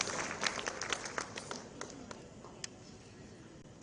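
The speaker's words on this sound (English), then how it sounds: "You should again clap for yourself that you took your time out for this training program." Training program audience clapping, scattered individual claps over a soft room background, faint and thinning out toward the end.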